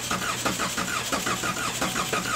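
A 2013-2015 Chevrolet Malibu LT 2.5L engine cranks without catching, the starter whirring in a steady repeating rhythm of about four pulses per second, loud and close throughout.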